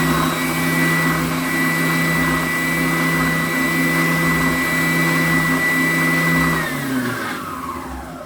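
A bench top oscillating spindle sander runs in a workshop with a steady whirring motor hum, then switches off and winds down with a falling pitch near the end; close and fairly loud, with no talking.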